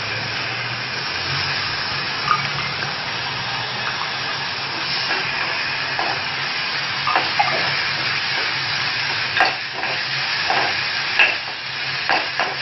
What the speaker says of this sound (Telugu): ఇప్పుడు ముందుగా తరిగి పెట్టుకున్న టమాటా ముక్కల్ని ఇందులో వేసుకుందాం